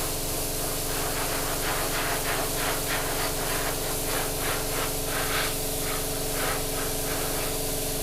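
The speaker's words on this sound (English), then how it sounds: "now I'm going to carry on spraying the entire thing" Airbrush spraying paint over a Tamiya 1/35 scale M1A1 Abrams model tank, a steady close hiss of atomized paint with soft pulsing bursts as the trigger is worked, continuous throughout with no talking.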